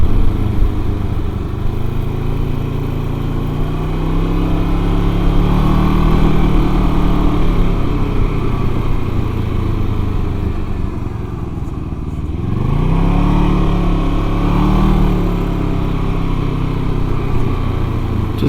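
A Can-Am Ryker three-wheel motorcycle cruising through New York City streets, its engine droning steadily up close, with two clear rises in pitch as it accelerates, then easing back, no voices.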